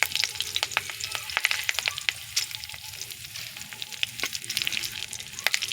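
Curry leaves, bay leaf and black cumin spluttering in hot oil, a steady close sizzle broken by frequent sharp pops and crackles throughout, with no voices.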